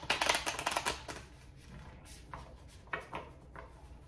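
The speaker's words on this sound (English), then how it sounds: "These cards are hard to shuffle because of the shape." Tarot cards with an awkward shape are shuffled in a quick rustling burst, followed by softer scattered card flicks and taps.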